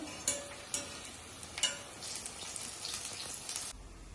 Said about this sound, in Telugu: ఇది వడలు మంచిగా వేగినాయండి.